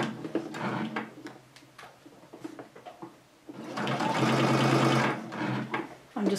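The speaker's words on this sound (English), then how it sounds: "And then we're going to sew towards the bottom here." A sewing machine stitches binding onto a placemat, running in short bursts at first and then in one steady, fairly loud whirring run.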